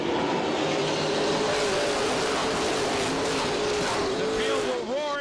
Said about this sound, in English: We'll let you hear the roar of the Super Stocks at Delaware Speedway out of turn 4 this time by.